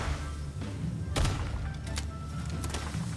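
A few sharp gunshots fired at a reptile in the video game Palworld, one stronger crack near the middle and fainter ones after, over a low rumbling game background.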